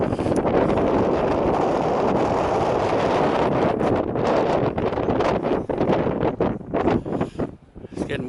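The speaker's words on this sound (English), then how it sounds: "It's getting windy." Strong wind blows across an open hilltop in the Scottish uplands and buffets the microphone in heavy roaring gusts. The gusts ease into choppier bursts toward the end.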